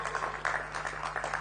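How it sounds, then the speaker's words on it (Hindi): A crowd applauds football legend Bhaichung Bhutia at a Bastar Olympics gathering in Bastar, producing a steady, dense wash of clapping with a few louder swells throughout. "जोर से ताली बजाइए जरा भूटिया जी के लिए"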